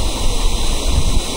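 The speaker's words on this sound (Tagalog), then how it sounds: "Ang ganda ng patak ng mga tubig." Water at Batlag Falls in Tanay, Rizal, pours down in a steady, loud rushing roar, close and continuous.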